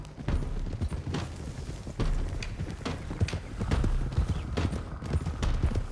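Several horses ridden off together in Red Dead Redemption 2, their hooves clip-clopping in a steady, overlapping gallop at close range, with a brief voice near the start.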